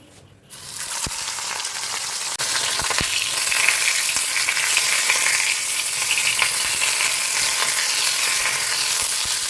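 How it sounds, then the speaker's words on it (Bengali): Fish frying in hot oil, a loud, steady crackling sizzle that bursts in after a quiet half-second and holds for the rest, with occasional sharp pops and spatters. "মাছটা ভাজা হোক, দেখি ওকে একটু।"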